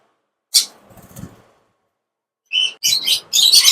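Pet birds chirping in short bursts: one sharp chirp with a soft rustle, a pause, then a rapid cluster of bright chirps close by.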